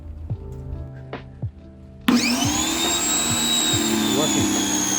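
A RYOBI 1600 PSI electric pressure washer starts up abruptly after a quiet moment, its motor settling into a loud, steady whine and hum that carries on to the end.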